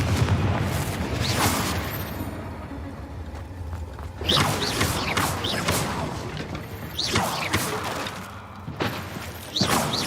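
Confringo blasting spell explosions in the video game Hogwarts Legacy: loud, rumbling blasts with crashing debris, a big burst at the start, another near the middle and a third at the end, set over constant background noise.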